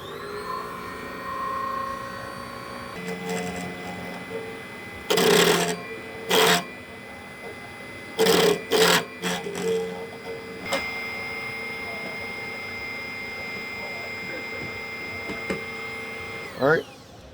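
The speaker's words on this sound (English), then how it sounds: "So now we're going to turn the machine on. We're going to start cutting the key." Silca Swift 2.0 key duplication machine cutting a Honda key: a steady motor hum broken by several loud bursts of grinding as the cutter bites into the blank, with a voice talking faintly now and then.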